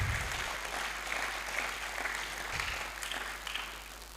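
Audience at a public forum gives a steady round of applause, a dense, fairly distant patter of many hands that holds evenly throughout, faint low rumble beneath.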